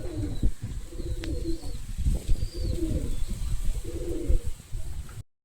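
Soft, low pigeon coos repeat in a steady rhythm, several phrases close by, with faint chirps and light background noise.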